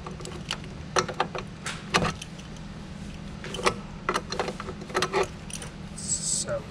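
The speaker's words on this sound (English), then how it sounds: "you're gonna use your adjustable and unscrew" An adjustable wrench turns an 18 millimeter bolt on a hopper cable, making a series of irregular metallic clicks and ratcheting creaks at close range against a low background hum.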